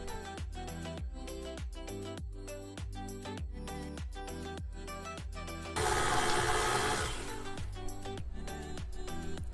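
Peanut butter cookie dough, with peanut butter just added, is mixed with a steady, rhythmic whirring and churning that swells into a louder, rougher burst partway through before settling back.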